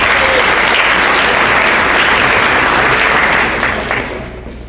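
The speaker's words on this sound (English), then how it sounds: "let's give him a round of applause" Audience at the Fairbanks FFA banquet breaks into a loud, full round of applause that sustains steadily and then tapers off near the end.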